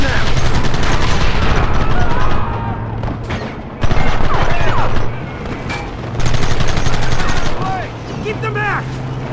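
Rapid gunfire rattles in Red Dead Redemption as dense volleys of close, loud shots come in bursts with short breaks, and shouting voices are mixed in.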